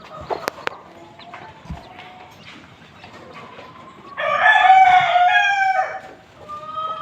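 A native country hen with newly hatched chicks clucks, with soft calls and peeps early on, then a loud, drawn-out call from the hen midway before quieter clucking returns.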